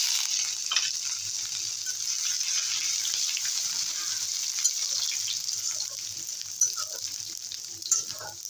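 Grated ginger and asafoetida sizzle in hot oil in a pan for a village-style dal, a steady close frying hiss with occasional stirring scrapes and small pops.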